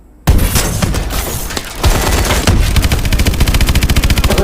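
Automatic gunfire in the video game Call of Duty Advanced Warfare bursts in loudly and keeps going as a dense, rapid stream of shots mixed with booming impacts, with no voices heard.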